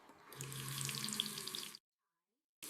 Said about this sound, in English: I turn on the tap.